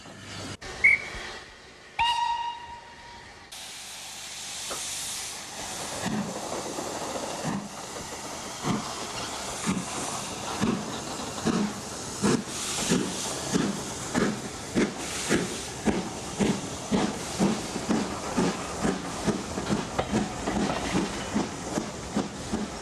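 A model railway steam locomotive gives a whistle toot and a burst of hissing steam, then pulls away with rhythmic chuffing that quickens steadily as it departs along a line cut through craggy moorland.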